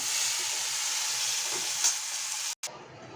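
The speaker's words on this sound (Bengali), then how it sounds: "ভেজে নেব।" Mushrooms frying in a pan with salt, giving a steady close sizzle throughout and a brief cut near the end, with no talk.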